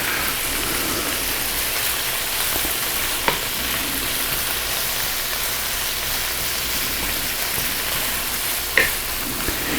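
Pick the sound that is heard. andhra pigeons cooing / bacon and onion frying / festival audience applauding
bacon and onion frying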